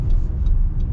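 A 2022 Honda Ridgeline Black Edition's V6 accelerating in sport mode, a loud, close, continuous low engine rumble with slight pulsing and no talking over it.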